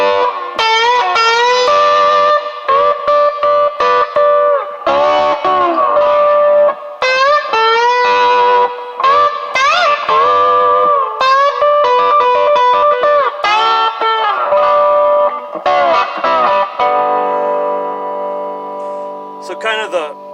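An electric guitar played through Line 6 distortion effects into a Hughes and Kettner 36 amp rings out in loud, sustained, harmonically rich distorted notes and bends, phrased in repeated bursts with short gaps.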